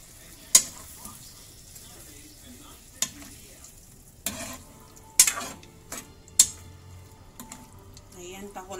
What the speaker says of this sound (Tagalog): Ilalagay ko na yung tomato sauce.